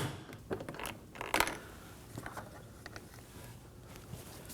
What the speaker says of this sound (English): Using a 10mm socket, go ahead and take that out